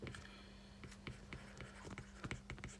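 Pen or marker writing notes about the hard palate, with a series of quick scratchy strokes and taps, close and quiet, no talking.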